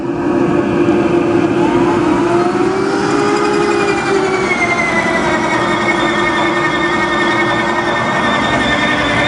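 A rigid machine takes a very deep pass through cue-making material, giving a loud, steady grinding roar with a whining tone that holds without a break from start to finish.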